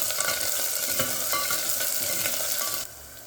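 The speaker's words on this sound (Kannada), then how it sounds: "ಮತ್ತು ಬೆಳ್ಳುಳ್ಳಿ, 2 ಹಸಿಮೆಣಸಿನ್ಕಾಯಿ, ಇಷ್ಟನ್ನು ನೀಟಾಗಿ ಫ್ರೈ ಮಾಡ್ಕೊಳ್ಳೋಣ." Garlic and two green chillies frying in a pan, giving a close, steady sizzle with occasional stirring clicks, fading slightly at the end.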